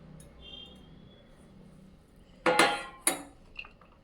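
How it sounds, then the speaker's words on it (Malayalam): Dry fruits (dates, black, white and yellow raisins, cashews) stirred into atta flour in a bowl for a cake: two sharp, loud clinks and scrapes of a utensil against the bowl, then a fainter tap, with no talking. "ഈ ഡ്രൈ ഫ്രൂട്ട്സൊക്കെ ഇതിലിട്ട് ഇളക്കുക"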